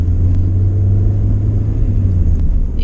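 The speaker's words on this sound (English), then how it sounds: "The exhaust sounds really nice from the rear." A Nissan 100NX engine and exhaust heard from the rear produce a steady, deep, even rumble that holds at a constant level throughout, with no voices.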